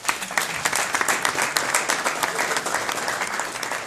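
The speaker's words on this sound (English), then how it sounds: "A big applause." Audience applause at a tech meetup event, a dense, steady wash of many hands clapping that stays loud and even throughout.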